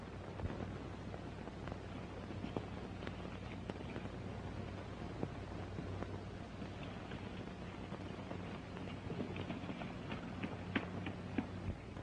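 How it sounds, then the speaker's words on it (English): A horse's hooves clip-clop along an Old West town street, set against a steady hiss of background noise, with faint scattered hoof strikes and no talking. "Pete Marlin's horse"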